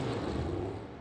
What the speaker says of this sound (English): And this is the sound of a Toyota Top Fuel dragster.